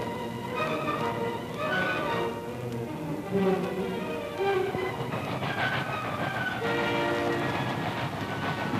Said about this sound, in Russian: Подходят последние поезда.